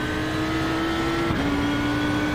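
A race car circling Imola in the iRacing sim gives a steady, loud, high-pitched engine drone that holds one tone, dips briefly around a gear change, then carries on with no voices.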